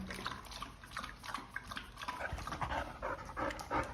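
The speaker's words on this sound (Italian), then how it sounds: "Sti cani, che contenti, sti cani, che contenti." Dogs panting close by, quick rhythmic breaths with soft wet mouth sounds running continuously and fairly quietly, with no talking.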